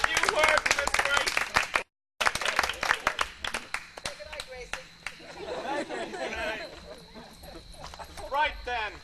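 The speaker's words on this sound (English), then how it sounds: "Let's have a round of applause" An audience at a 1987 party awards presentation claps in a dense burst for a couple of seconds; after a brief cut, scattered claps continue under chatter and a speaking voice.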